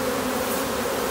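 A dense, steady buzzing of a honey bee swarm in a tree fills the sound, close and continuous, with no voices.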